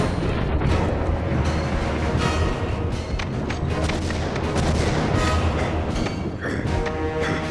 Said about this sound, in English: So I thought I'd blow it up